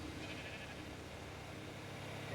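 Sheep bleat in a survival video game, a soft, low-level wash of animal calls blended into constant background noise with no talking.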